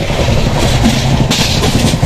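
Sleeper class interior of the Howrah Mail from Mumbai to Nagpur while running, with a loud, steady rumble of the carriage and wheels rolling along the track.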